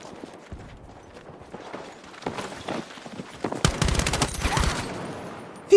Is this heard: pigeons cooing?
no